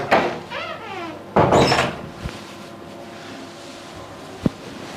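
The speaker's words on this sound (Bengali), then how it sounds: "এই দরজাটা লাগাও" A door is pushed shut indoors in a home, giving a short thud and rattle amid room noise, followed later by a brief sharp knock.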